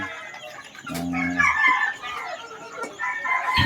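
Four-month-old pullet chickens clucking and calling close by, with a short low clucking burst and higher squawks and chatter spread throughout, busy and fairly loud.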